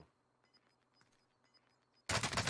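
Video game gunfire erupts suddenly as a loud, dense burst after a quiet stretch of faint beeping and ambient game sounds.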